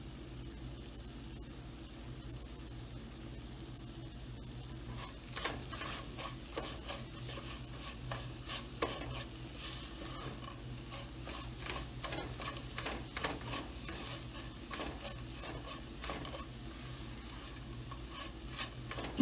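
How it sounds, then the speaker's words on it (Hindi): A spoon stirs sweet gujiya filling with sugar, cardamom powder and kewra essence as it roasts in a pan over a low flame, giving a soft steady sizzle with scraping strokes that come and go, and no voices. "मीडियम से भी कम आंच पे हमने इसको भूना है।"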